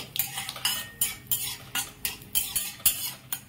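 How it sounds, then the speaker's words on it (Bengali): Dry chili, cumin seeds, bay leaf and asafoetida fry in oil for a tempering, with rhythmic metal-utensil scrapes and knocks against the pan over a faint sizzle, close up, no talking. "একটা শুকনো লঙ্কা, 1/2 চামচ জিরে আর একটা তেজপাতা ফোড়ন দেব।"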